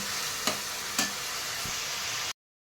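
Onions fry with a bay leaf in a pan, giving a steady close sizzle broken by a couple of sharp stirring taps before the sound cuts off abruptly.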